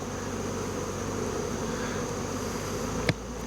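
A honeybee colony buzzes during a hive inspection, a dense, steady drone of many bees close by, with a single sharp knock near the end.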